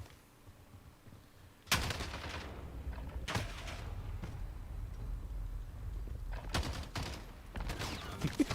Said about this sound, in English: this is a light machine gun that looks like a shotgun